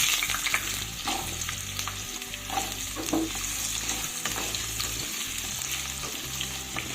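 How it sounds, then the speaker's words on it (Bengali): Potatoes and shola kochu sizzle in hot mustard oil, a steady close crackling fry with occasional stirring clatter throughout, no talking. "এবার আমি প্রথমে আলু আর শোলা কচুগুলোকে একটু ভেজে নেব।"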